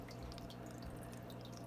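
Water splashes steadily from an aquarium filter into a 125-gallon cichlid tank, a faint continuous trickling and dripping with no voices.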